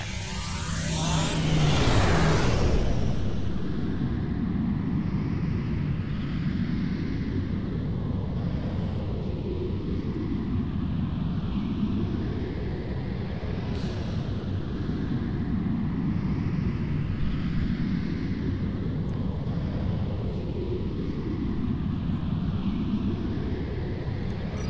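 A starship in a Star Trek video game travels under slipstream drive, a loud whooshing surge at the start settling into a continuous deep roaring hum with slow rising and falling swells.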